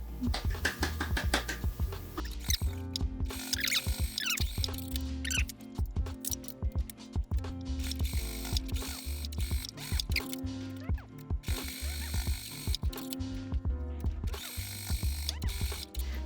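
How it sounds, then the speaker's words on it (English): A sewing machine stitches the seams of a zippered fabric pouch, a continuous close mechanical whirr with a rapid rhythmic needle clatter that briefly pauses and restarts, and no talking. "we're going to go and sew along each of these lines"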